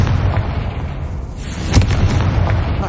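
A Confringo spell blast in the Hogwarts Legacy video game, a booming explosion that peaks sharply about midway and then rumbles on over a dense bed of game noise.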